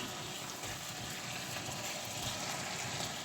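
Red cabbage simmers gently in a pot, a steady, even bubbling hiss that holds without a break for a few seconds.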